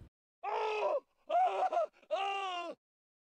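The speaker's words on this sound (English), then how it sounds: "Sound effects is called Sound Idea Scream Male Agony." A slowed-down, pitch-lowered stock sound effect of a man screaming in agony, three drawn-out, deep, groaning cries separated by short silences, loud and isolated.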